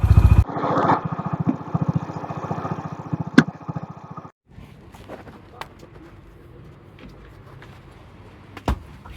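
A Honda motorcycle engine idles close by with a rapid, loud, pulsing chug for several seconds, then stops abruptly, leaving quieter background sounds with occasional sharp clicks.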